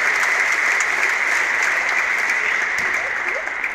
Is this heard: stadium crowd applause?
yes